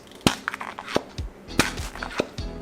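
A loose, partly inflated sculpting balloon squeezed by hand, giving a few short, close, soft popping bursts of escaping air with rubbery squeaks between them.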